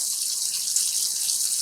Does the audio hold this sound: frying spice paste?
no